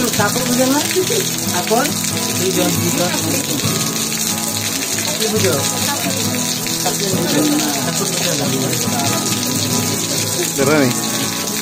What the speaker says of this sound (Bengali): হঠাৎ করেই বৃষ্টি নামলো।